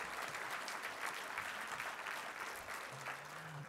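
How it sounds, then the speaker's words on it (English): At a community college inaugural presidents breakfast, the audience gives a sustained round of applause. The clapping is steady and dense, and a faint voice comes through underneath near the end. "Now let's give our educational leaders a big thank you, Clovis Crush, round of applause."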